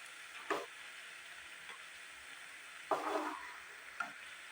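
Rice flour pitha dough with jaggery being stirred and fried in a pan, heard as a low steady sizzle broken by a few short scraping stirs, fairly faint and without talk.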